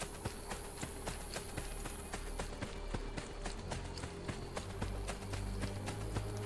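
Horse hooves clip-clop at a steady, fairly quick pace in the Assassin's Creed Brotherhood video game, the evenly spaced taps sitting quietly over a low game background hum.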